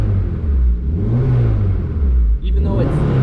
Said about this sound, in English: even though I am revving it and letting it decel in the -5 value